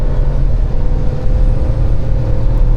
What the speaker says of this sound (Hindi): फील आ रहा है ना कि हाँ इंजन चल रहा है